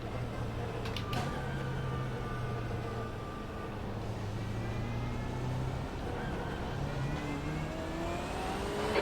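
In the iRacing game, a BMW M8 GTE race car's engine drones steadily at close range, its pitch climbing gradually toward the end over a dense layer of car noise.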